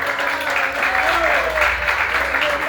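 Church congregation clapping during a Spanish-language worship service, steady rhythmic applause over a low organ or keyboard drone, with a voice singing or talking faintly over it.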